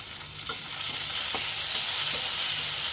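Green chilies and cumin seeds fry in hot oil, a bright, continuous close sizzle with faint stirring taps spaced through it, and no voices.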